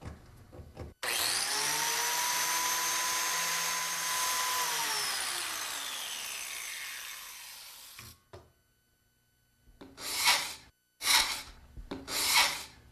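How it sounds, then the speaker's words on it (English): Glue is scraped from the center line of a wooden panel with a long, steady rasping rub, loud and close, that fades toward the end and gives way to a few short scraping strokes after a pause. "We're just finishing up removing the glue from the center line of our panel."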